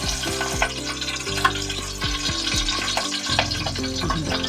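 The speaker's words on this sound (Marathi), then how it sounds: "कढीपत्ता घालते. तेल तापलंय." Curry leaves hit hot oil in a pan and sizzle loudly and steadily, with crackling spits and pops over a continuous frying hiss, close up and with no talking.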